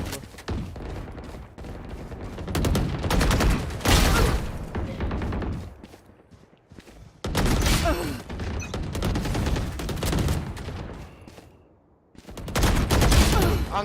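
Valorant gunfire in loud bursts of rapid automatic shots and booms, broken by brief quiet gaps, with faint talk now and then.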